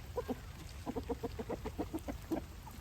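Several free-ranging roosters cluck in quick rhythmic bursts, a run of short clucks repeating steadily at close range over a soft background wash of rain.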